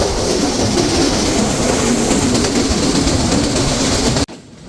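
A Rajshahi Commuter intercity train rolls across the Baral river bridge, a loud, steady broadband rumble of wheels and carriages heard from on board, which cuts off abruptly near the end to a quieter hum.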